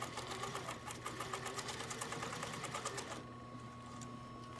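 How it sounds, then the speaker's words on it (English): A sewing machine stitches face mask fabric in a fast, even run of mechanical ticks close by, then stops, leaving a faint motor hum. "I'm also sewing about an 1/8 inch from the very raw edge"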